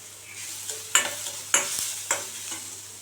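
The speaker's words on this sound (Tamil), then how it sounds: "மசாலா பல்ஸ் பண்ணி வச்சுருக்கோம், இதை சேர்த்து வதக்கிக்கலாம்" Spice masala and peeled, cut yellow sweet potato are sautéed in a pan. A soft sizzle runs underneath while a spoon stirs and scrapes in several sharp strokes, close and alone with no voices.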